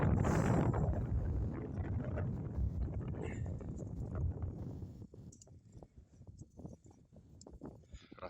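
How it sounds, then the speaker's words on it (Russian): Strong winter wind buffets an open microphone out on the ice during a fishing trip, loud broadband rumble and gusting at first, then easing into lighter, uneven gusts. "Друзья, идет хороший ветер, ветрено очень."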